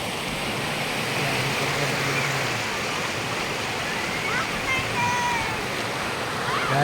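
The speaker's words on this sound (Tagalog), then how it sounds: "Ngayon po dito tayo sa napakagandang ilog." A broad, steady rush of a flowing river in Pampanga, continuous close water noise with no breaks and faint higher splashing textures on top.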